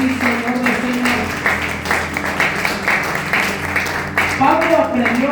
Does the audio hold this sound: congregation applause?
yes